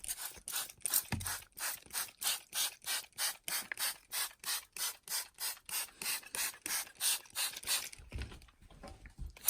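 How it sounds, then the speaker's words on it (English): A spray bottle mists microgreens of cabbage and a spicy mix in rapid, even trigger pumps, roughly twenty close hissing spritzes in steady rhythm, ending in a brief clatter. "What I am going to do is I'm just going to mist."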